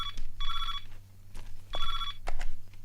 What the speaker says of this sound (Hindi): मिश्रा जी का फोन है